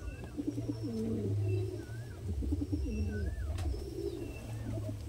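Madrasi pigeons coo in soft, repeated low murmurs, overlapping steadily, with faint chirps from other birds in the background.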